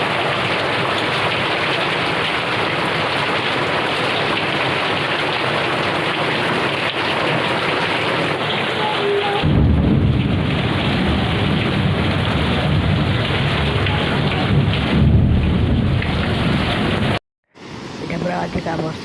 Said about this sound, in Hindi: इटा प्रबल प्रबल वर्षा